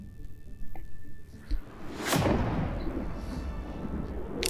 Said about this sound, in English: 3-shot burst, hand operated, kind of like a mortar, but somewhere in between a mortar and a grenade launcher